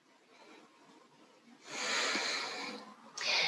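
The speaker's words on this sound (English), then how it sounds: "I'm going to take a few more breaths here." Slow, deep breaths drawn during a yoga pose, a soft airy inhale swelling and fading, then another breath starting, close and quiet with no talk.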